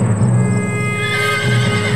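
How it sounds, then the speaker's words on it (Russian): A wild mustang horse neighs loudly and close, a long whinny with a second call rising toward the end, over steady outdoor ambience with no talk. "Лошади – животные стадные."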